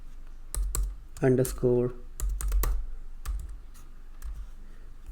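Python code typed on a computer keyboard, a run of close key clicks and taps while a person talks over part of it, continuing more sparsely afterward.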